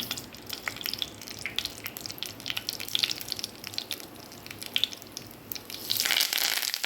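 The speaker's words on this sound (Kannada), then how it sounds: "ಬಿಸಿ ಆಗುವಾಗ ಸಾಸಿವೆಯನ್ನು ಹಾಕ್ತಾಯಿದ್ದೀನಿ." Mustard seeds splutter in hot oil for a South Indian tempering, making irregular crackling pops and sputters over a soft sizzle that grows denser toward the end.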